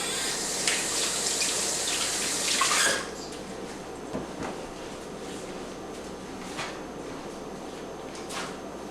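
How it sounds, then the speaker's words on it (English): A kitchen tap runs steadily as hands are washed during a homemade cinnamon roll bake, loud for about three seconds before the flow cuts off, leaving faint room noise with a few light knocks. "Let me wash my hands."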